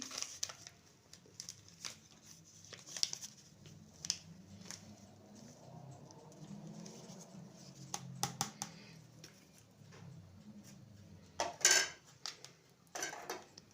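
Cookie dough ingredients with baking powder stirred together in a bowl, soft scraping and clinking of utensil against the bowl, with a few sharper knocks and taps spread through the mixing.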